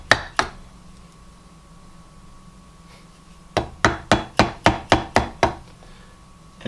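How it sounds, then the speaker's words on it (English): Chisel struck with a mallet to clear dovetail waste from a wooden board: two knocks, a pause, then a steady run of about eight close, loud, evenly spaced blows. "I have to chisel the most of this waste away before I can go on that knife line."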